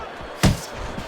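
A single heavy thud of a punch landing in the Fight Night Champion boxing video game, a sharp loud impact midway through a short stretch of low background crowd noise.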